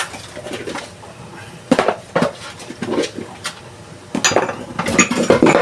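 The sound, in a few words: washing dishes, pots and utensils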